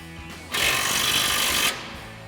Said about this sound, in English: So we'll grab our 19 mil wrench and our 18 mil socket again. And go ahead and tighten this through bolt.